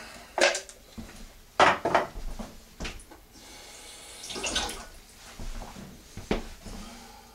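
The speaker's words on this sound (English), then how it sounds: "about a quarter cup of water, maybe a little more, on top, just like that." Water pours from a tap and splashes into a pot of Tuscan spaghetti meat sauce in a home kitchen, arriving in several short bursts among clinks of a pot and utensils, with no one speaking.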